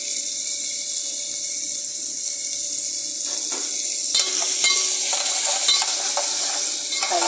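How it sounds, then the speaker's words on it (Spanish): Onion sizzles steadily in a hot frying pan while being cooked for a dinner. The frying hiss is close and continuous, joined midway by clattering scrapes of stirring. "ahora sí podemos empezar a echar la cebolla. Vamos a echar la cebolla."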